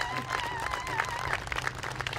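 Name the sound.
audience applause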